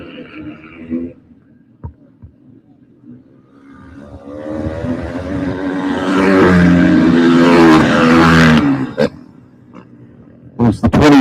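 KTM flat track motorcycles race on a short track in a 450 amateur class; the engine roar swells loudly through the middle and then fades, under a commentator's talk.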